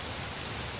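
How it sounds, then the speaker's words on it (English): Steady rain pours down outdoors on Long Island, New York, a dense continuous hiss of drops striking surfaces, even and unbroken, with no voices. "Oh, it's raining."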